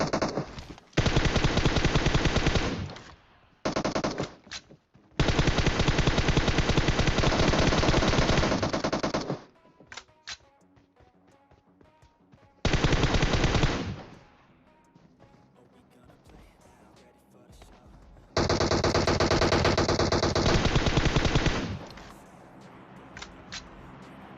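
Long bursts of rapid automatic M4 rifle fire in a video game, loud and close, separated by short pauses and scattered single shots.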